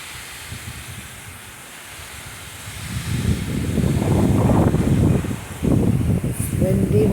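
Gusty wind from Hurricane Debbie buffets the microphone, starting as a low steady rumble and swelling into loud, rough blasts of roaring noise over the last four seconds.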